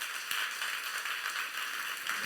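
Church congregation at a youth service clapping together, a steady distant wash of many hands, faint and even throughout.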